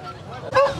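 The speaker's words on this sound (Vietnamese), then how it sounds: "rất là nhiều những con chó, chó to, chó nhỏ" A single short bark rises out of crowd murmur at the Bac Ha dog and horse market in Vietnam, brief and fairly close.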